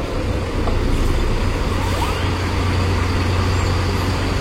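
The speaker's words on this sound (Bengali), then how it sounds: "আমাদের বাস ঢুকে গেল দীঘা।" Greenline Volvo express bus on the Kolkata to Digha route pulling in at Digha, a steady low engine rumble with road noise, close and continuous throughout with no talk.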